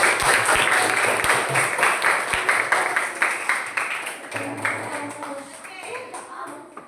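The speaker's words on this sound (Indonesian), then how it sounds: "Tepuk tangan." Classroom applause breaks out during a lesson, a brisk burst of many hands clapping that gradually thins and fades over several seconds, with some voices underneath.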